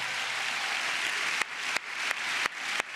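Dense, steady applause from a live audience in a concert hall fills the space, a thick sustained roar of clapping and cheering interrupted by several brief cuts.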